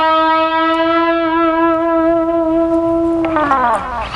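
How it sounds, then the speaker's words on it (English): Electric guitar bent note from a solo, held loud and steady before sliding downward near the end into a smeared, falling pitch, played alone. "And then there's a little bit of a slide out of it."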